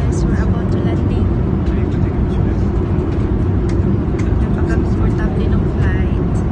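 Steady, loud low-frequency cabin roar of an airliner on landing approach, a continuous broadband drone filling the whole stretch with faint higher hiss above it and no distinct events.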